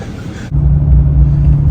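A Duramax diesel pickup truck driving on the road gives a loud, steady low engine rumble and road drone from inside the cab, after a brief hissy wind or tire noise at the start.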